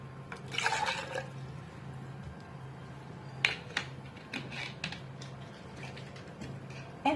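Mineral water poured into a glass, a short burst of splashing and trickling early on, then scattered drips and light clinks over a faint steady hum in a quiet room.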